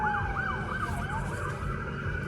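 An emergency siren wails in a rising and falling pattern, muffled and distant, over a low steady rumble of traffic.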